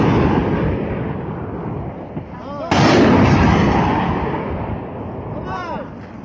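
Gunfire during a border clash in Batken, with Kyrgyz soldiers firing warning shots into the air: loud booming reports cut through heavy rumbling noise, one sharp burst arriving midway and further shots following amid voices.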